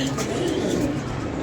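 Steady pigeon cooing close by, soft low throaty calls blending into a continuous murmur with no pauses.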